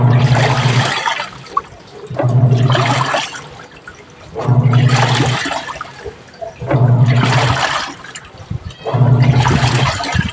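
Toshiba top-load washing machine draining water: loud, close surges of rushing water come in about five regular bursts, each separated by a short lull.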